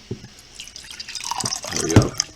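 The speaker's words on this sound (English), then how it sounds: "I'm going to go ahead and pour myself some filtered water here with my zero water filter." Filtered water poured from a Zero Water filter pitcher, starting as scattered drips and building into a fuller splashing trickle that peaks near the end, close and clear with no talking.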